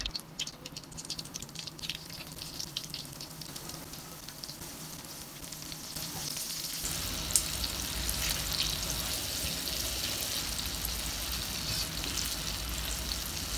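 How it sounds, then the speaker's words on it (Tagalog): Egg-coated chicken pieces fry in hot oil, crackling and popping at first, then swelling into a dense, loud, continuous sizzle about halfway through as more pieces go in; no speech. "Nakaredy na nga po pala dito yung aking mainit na mantika kaya naman mag-start ako magprito."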